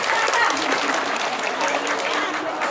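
Steady, dense applause from the audience at a Balinese bondres joged dance performance, a loud continuous wash of clapping with no gaps, close and filling the space throughout.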